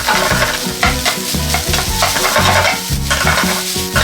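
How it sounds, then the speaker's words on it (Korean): Cooked rice being stir-fried in oil in a wok for shrimp fried rice, loud continuous sizzling with busy rhythmic scraping and tossing of the utensil against the pan, close and with no talk. "기름에 하나하나 좀 코팅이 된다는 느낌으로 볶아주시면 되겠습니다"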